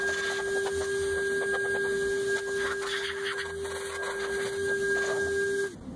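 A steady, high-pitched motor whine from a Metro Vac and Blow air blower drying a car, over a rush of blowing air, constant and close, cutting off abruptly at the end.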